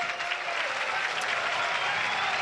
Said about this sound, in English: Even the subs are getting applauded on. Real noise here at Turf Moor.